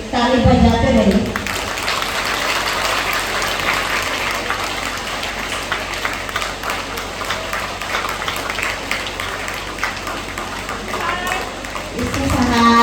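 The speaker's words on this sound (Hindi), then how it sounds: "आप लोग ताली बजाते रहिए।" An audience at a church women's association education conference keeps up steady, continuous clapping, a dense wash of hand claps that fills the whole stretch, with a voice speaking briefly at the start and end.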